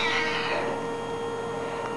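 A cat meows loudly and close, one drawn-out, wavering cry that fades into a steady electrical hum, with no talking over it.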